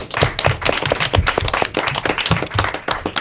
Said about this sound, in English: And a big round of applause for yourselves.